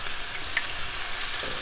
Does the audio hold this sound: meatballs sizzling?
yes